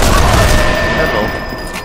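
Grenade blast against a tank in the shooter Sniper Elite 4: a loud, broad rumbling burst that fills the opening and slowly fades, with a steady tone and a voice over the top.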